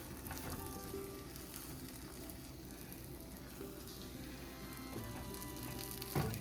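A Western omelet sizzles steadily in a pan, a soft continuous frying crackle, with a quick scrape and thump near the end as a spatula flips it.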